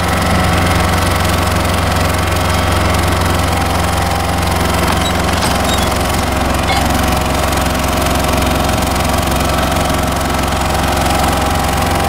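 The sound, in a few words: asphalt tar truck engine running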